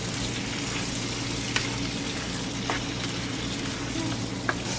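Pasta coated in olive oil sizzles in a pan as it is stirred, a dense, even frying hiss with a few light utensil taps, close and steady.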